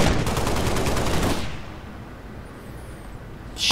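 Gunfire from the video game Halo: Reach rattles out in a dense burst for about a second and a half. A short quiet gap follows, then another sharp burst right at the end.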